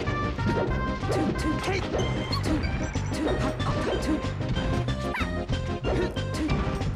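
Forward smash attacks hitting in a Super Smash Bros. Melee doubles match land as repeated sharp whacks amid busy game sound and music, with a commentator talking over it.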